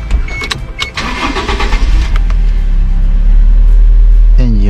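A Toyota TownAce KM75 truck's engine cranks and catches up close, a loud low mechanical rumble with a brief whining sweep near the end, heard inside a workshop setting.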